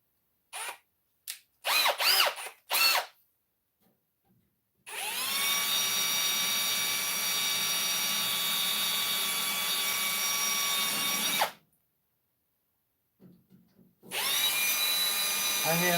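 A power drill whirs at a steady high pitch for several seconds, then stops and starts again; brief knocks and talking come before it.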